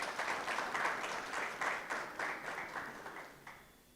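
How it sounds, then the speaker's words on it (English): A round of applause from the audience at a university campus student council inauguration ceremony, steady clapping throughout that fades slightly toward the end, with no talk over it. "Let's give the president a round of applause."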